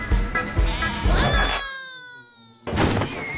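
Cartoon sheep from Shaun the Sheep giving a loud, close bleat with a wavering tone after a noisy busy passage, with more clattering sound starting again right after the bleat.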